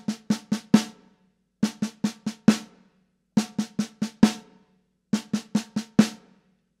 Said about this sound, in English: So the 5-stroke roll without the flam would sound like this.